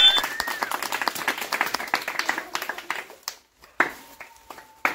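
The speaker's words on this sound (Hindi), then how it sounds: "वाह तालियां।" A crowd claps in quick, dense bursts during a tire-and-football prize challenge, loud and close for about three seconds, then breaking into a few scattered claps after a brief pause.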